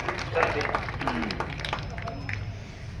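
A crowd at an outdoor community gathering in Mahendergarh claps to welcome a speaker, producing brief, moderately loud applause amid background murmur and noise.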